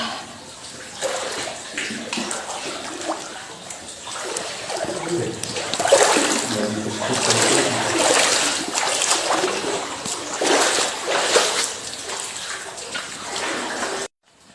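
Water splashing and sloshing inside a low-ceilinged cave, a steady wash of close splashes and trickles with irregular louder surges throughout, stopping abruptly at the end.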